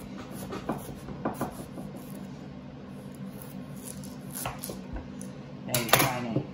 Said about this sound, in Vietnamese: mình xắt khoai